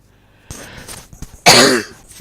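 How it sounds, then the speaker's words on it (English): A person clears their throat and then lets out one sharp, loud cough close by, followed by a short breath. "while I cough,"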